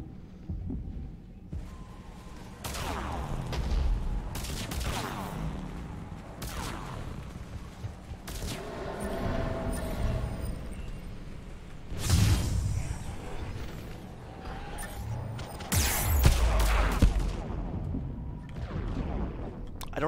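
Enemy gunfire and heavy impacts in Mass Effect 3 pound around the player in irregular bursts, mixed with whooshes and booming hits, loud and close throughout.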